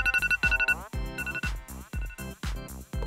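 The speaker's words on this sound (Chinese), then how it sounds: "打开闹钟" An alarm clock rings in rapid bursts of bright electronic beeps, repeating in a steady pulsing pattern, fairly clear and close.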